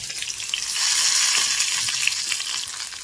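Brinjal masala sizzling and frying steadily in a pan, a continuous loud hiss with crackling bursts, close up and alone with no talk.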